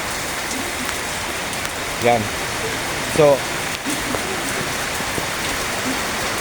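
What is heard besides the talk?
rain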